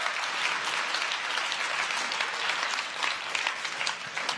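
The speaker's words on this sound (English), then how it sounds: "Give them a huge round of applause for doing an awesome job." A crowd at the Startup World Cup Finland 2018 event gives a big round of applause, a dense, even roar of clapping that holds steady throughout, fairly loud and without speech.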